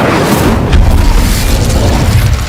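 Incendio fire spell cast in Hogwarts Legacy, a loud, rushing whoosh and rumbling burst of flame that swells and holds for a couple of seconds.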